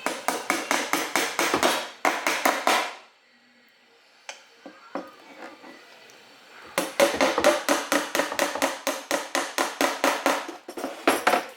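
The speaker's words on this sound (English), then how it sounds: "it's just a tap with your hammer" A hammer taps a cabinet door handle in quick, sharp, evenly spaced bursts. The taps stop for a few seconds, leaving quiet with faint clicks, then resume. The sound is close and loud, with no voices.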